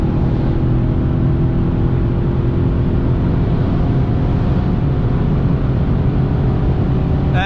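A BMW M850i Gran Coupe in sport mode on the autobahn, holding about 260 km/h at top speed, gives a steady, loud, droning engine and road rumble inside the cabin, unbroken and without talk.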